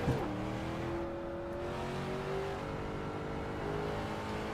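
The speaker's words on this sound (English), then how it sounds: "I kind of thought that shifting noise was super loud." An iRacing race car shifts gears with a brief clunk at the start, then its engine drones steadily at high revs, the pitch climbing slowly as the car pulls away, all fairly faint.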